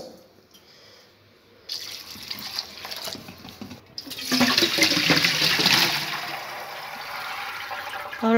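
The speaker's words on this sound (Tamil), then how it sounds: "நல்லா பச்சை தண்ணி எடுத்து நம்ம ஊத்திக்கிறோம்" Tap water runs and splashes steadily into a container of cauliflower being rinsed, growing louder and fuller partway through, with faint clinks.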